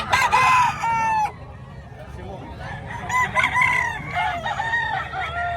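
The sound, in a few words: chickens and roosters crowing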